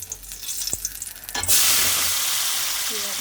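Onions and tomatoes being sautéed together in a pan for a country-egg fry, with scraping stirring strokes and a couple of knocks before a loud, steady sizzle that swells suddenly and continues, close up, with no talk.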